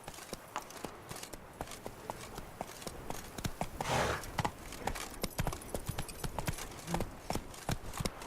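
Roach, a horse in The Witcher 3, galloping with a steady rapid clip-clop of hooves, moderately close and fairly quiet, running continuously with no talking over it.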